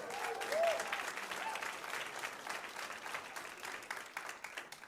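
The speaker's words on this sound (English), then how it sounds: "let's clap it up for the vets one more time" Comedy club audience at an improv show applauds for military veterans, a full steady crowd clapping, fairly close, with a faint voice or whistle briefly rising over it early on.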